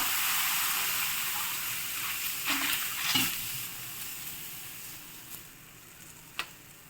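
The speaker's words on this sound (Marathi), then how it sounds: "थोडंसं तेल टाकल्यानंतर आपण हे थालीपीठ आता टाकून घेऊ." Bottle gourd thalipeeth fries in oil on a hot tawa with a continuous hissing sizzle that slowly softens, broken by a few small clicks and a sharp tap near the end.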